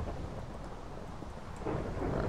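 Low rumbling thunder in a building adventure video game, a loud broad roll that swells toward the end, with no talking over it.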